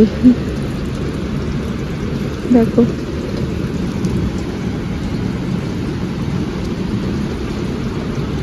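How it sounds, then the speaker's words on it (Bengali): Heavy rain pours down outdoors at dawn, a steady dense roar with faint thunder, and a person briefly speaks once over it. "আমি বাইরে বেরিয়ে দেখছি কি দারুণ বৃষ্টি পড়ছে"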